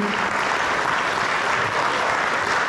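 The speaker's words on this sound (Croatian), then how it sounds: "Molim jedan aplauz zahvalnosti" Sustained, loud audience applause fills a crowded hall at the seventh birthday concert of the ethno group Carza Drvar. The dense clapping rolls on evenly throughout, with no voices rising above it.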